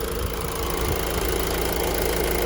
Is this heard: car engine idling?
yes